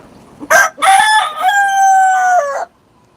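A black country rooster, kept on a rooftop in Chennai, gives a loud, close crow that rises and holds for about two seconds. A short sharp cluck comes just before, and then it falls silent.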